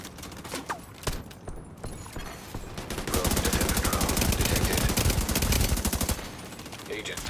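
Video game gunfire from a P416 assault rifle in The Division 2: scattered shots, then a loud, rapid, sustained automatic burst for about three seconds, followed by further firing, all loud and close.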